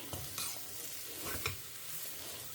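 Mango rice sautéing in oil in a pan while a spoon stirs it, a continuous sizzle with a few scraping strokes and light clinks of utensil on the pan, heard close up and without talk.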